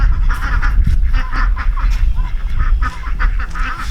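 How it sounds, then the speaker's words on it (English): Ducks quacking and honking close by, a busy overlapping flock chatter that carries on steadily over low rumbling background noise. "Hey, the ducks are here."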